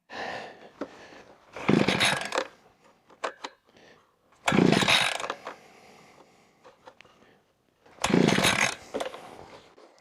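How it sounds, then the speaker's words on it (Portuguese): Petrol engine of a drilling machine, choke being adjusted, cranked and revving in three loud bursts that roar then fade back to a rough, sputtering idle between them. "quando eu ligo e ela não pega direito, eu só avanço o afogador devagar, um pouco mais, e escuto o som do motor"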